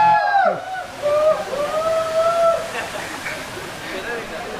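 Water sloshing and churning at a waterfall, captured underwater by a GoPro, a dense rushing wash with muffled tonal whines and murmuring voices in the background.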